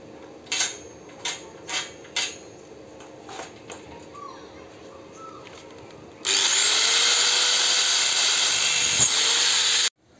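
A power tool cuts frame sheet material on a construction job, a few short knocks and taps giving way to a loud, steady high whine and hiss that runs unbroken for several seconds before stopping abruptly.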